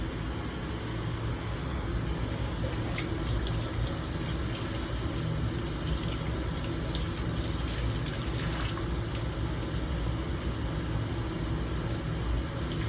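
Steady running water rinsing a polishing pad in a lab, a continuous loud gushing wash with a faint mechanical hum, unbroken for the whole stretch and with no voices.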